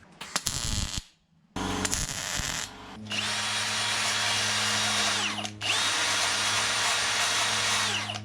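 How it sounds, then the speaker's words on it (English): A Unimig MIG welder tacks up holes in a car's rear spoiler: a brief crackle, then two long, steady, close buzzing bursts of arc with a short gap between them. "I'm gonna have a shot at tacking them up with the Unimig"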